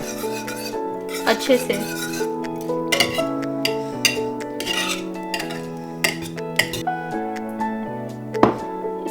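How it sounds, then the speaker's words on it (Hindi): Samosa chaat gets stirred with green chili sauce, and a spoon clinks and scrapes repeatedly against a metal bowl while background music plays and a voice briefly speaks. "2 टेबलस्पून ग्रीन सॉस है, ग्रीन चिली सॉस, अब हम इसे मिक्स करेंगे"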